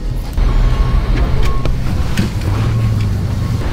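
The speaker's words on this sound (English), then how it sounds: "let's take this guy for a quick spin" A Bentley pulls away on a test drive from a CarMax auction lot, its engine a steady low rumble under gusty wind buffeting the microphone, with a few faint clicks and knocks over the drone.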